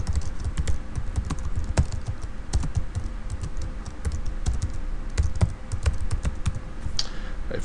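Fast typing on a computer keyboard, a close, continuous patter of crisp key clicks with occasional louder strokes, heard alone without any talking.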